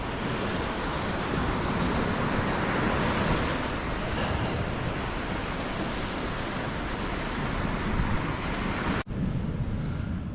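Steady, loud surf washes onto a beach below cliffs at Vilanova i la Geltrú in Spain, a constant roar mixed with wind rumble on the microphone and a brief dropout near the end.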